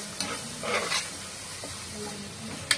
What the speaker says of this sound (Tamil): அதையும் கூட சேர்த்து நல்லா வதக்கி விட்டுறலாம்